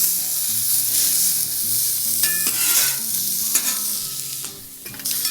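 Pulled pork sizzles and fries on a flattop griddle while a spatula stirs and scrapes it around, a loud close hiss broken by sharp metallic scraping strokes.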